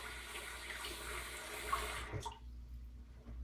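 Tap water running into a sink while rinsing after a shave, a steady close rush that cuts off abruptly partway through, leaving quiet.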